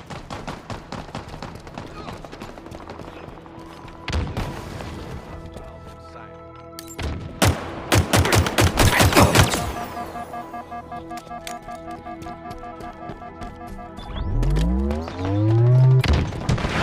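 Gunfire and explosions in Halo Infinite multiplayer on the Bazaar map on Xbox Series X: dense bursts of rapid shots, booms and a rising whine over a continuous game soundscape, with game voice callouts.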